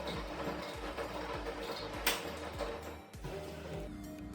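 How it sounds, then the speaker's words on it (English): A washing machine starts its cycle, giving a steady run of soft rhythmic mechanical ticks and clicks with a low hum and one brief louder knock, heard close up with no talk. "the washing machine starts"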